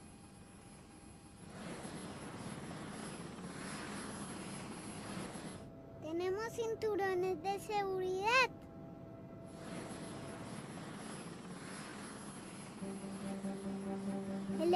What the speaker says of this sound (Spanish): El helicóptero hace mucho ruido.